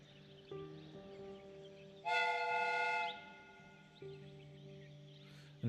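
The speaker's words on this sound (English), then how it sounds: "The steam whistle is..." A steam train whistle in the Sherlock Holmes: Crimes & Punishments game blows one loud, sustained harmonic blast of about a second, set between quieter steady mechanical tones and background hum.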